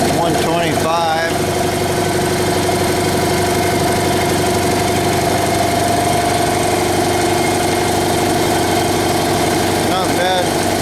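An old barn-find air compressor with loose belts runs steadily and loudly nearby, a continuous droning, knocking mechanical hum with a rattling vibration, while people talk over it.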